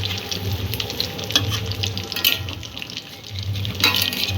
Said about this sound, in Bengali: মাছটা আমি এপিট ওপিট হালকা ব্রাউন করে ভেজে নিচ্ছি